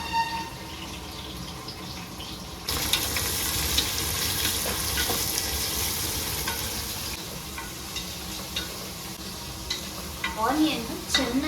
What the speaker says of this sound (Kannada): ಆನಿಯನ್ ಚೆನ್ನಾಗಿ ಫ್ರೈ ಆಗಬೇಕು, ಗೋಲ್ಡನ್ ಬ್ರೌನ್ ಬರೋ ತನಕ